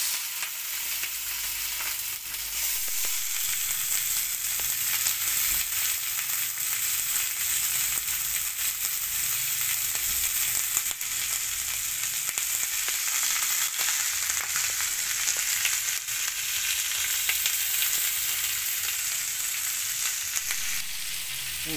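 Garlic and butter sizzle steadily in a hot pan while beef steak is being cooked, a dense, continuous frying hiss close by with faint stirring scrapes and no talking.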